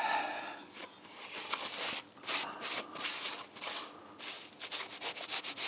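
An old rusty engine block being rubbed and sanded by hand to clean its surface, steady close abrasive scrubbing strokes in uneven rhythmic bursts, with no talk.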